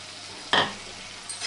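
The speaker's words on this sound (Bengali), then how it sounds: "এবার আমি ভেজে রাখা আলু আর ব্রকোলিটা দিয়ে দেবো।" Fried potato and broccoli pieces drop into a pan of sizzling, oil-released spice masala, giving one sudden loud burst of frying hiss that quickly fades to a low simmer, with a faint second sizzle near the end.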